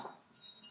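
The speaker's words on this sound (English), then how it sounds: "that was my alarm" A short, thin electronic alarm beep sounds from a smoke-type detector indoors, faint and alone with no talk.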